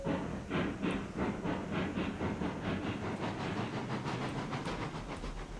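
A steam locomotive runs in the video game RailRoads Online, giving a steady rhythmic chuffing with a hissing wash, evenly paced exhaust beats continuing throughout at a constant loudness.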